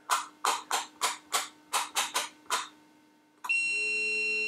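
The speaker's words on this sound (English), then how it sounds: "So it looks like under 10 ohms you'll get the continuity buzzer." A rapid series of about ten short buzzy beeps, then a pause and a steady continuous electronic buzz tone from a Sonel MIC-5 insulation tester's continuity buzzer, below 10 ohms, that holds to the end.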